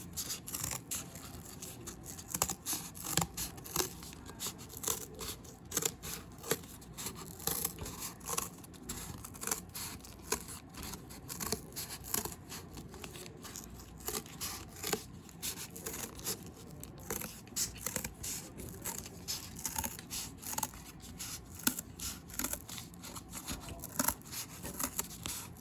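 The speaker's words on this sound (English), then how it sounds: "Now I'm going to use some really good scissors to cut out this circle." Scissors cut a circle out of cardboard, a close, quiet series of crisp cuts and rustles in an irregular rhythm.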